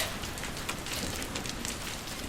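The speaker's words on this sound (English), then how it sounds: "it started to pour" Heavy rain pouring down at an outdoor festival, a dense, continuous wash of drops hitting surfaces with scattered sharper patters, with no talking over it.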